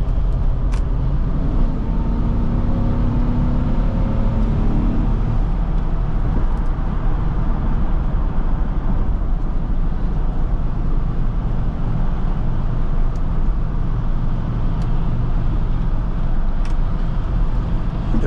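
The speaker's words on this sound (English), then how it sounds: "Surprisingly, there's so much traffic here today." Road traffic rumbles steadily from inside a 2005 Chevrolet Suburban 1500 on the move, a loud, constant low roar of engine and tire noise with passing vehicles blending in.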